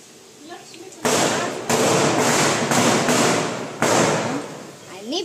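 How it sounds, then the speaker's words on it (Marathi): Diwali firecrackers burst outside a home, a handful of loud, sharp bangs coming in quick irregular succession against a quieter background with faint voices. "आणि बाहेर फटाके उडत आहे."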